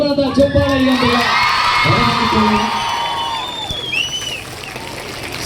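An audience at a film teaser launch event claps and cheers loudly, with whoops and shouts rising and falling over a few seconds before fading.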